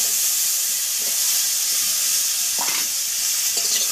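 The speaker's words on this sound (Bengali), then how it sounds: "দিয়ে আলুগুলো ভেজে নিয়ে তোমাদের দেখাবো।" Potatoes fry in a kadai in hot oil, giving a steady, loud, dense sizzle and hiss that fills the whole clip, with a few brief scrapes and stirring clatters toward the end.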